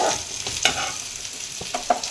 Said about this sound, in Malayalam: നമുക്കതിൽ കുറച്ച് പച്ചവെളിച്ചെണ്ണ ഒഴിച്ച് ഒന്ന് ഇളക്കി കൊടുക്കാം